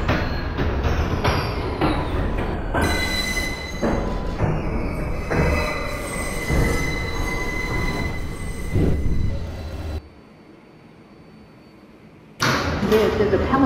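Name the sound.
NYC subway 6 local train running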